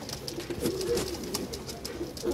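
Pigeons coo softly and repeatedly at close range, with other birds chirping faintly around them.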